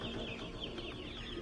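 Chickens being caught to go into a tractor cluck close by in a short, continuous burst of soft, overlapping clucks.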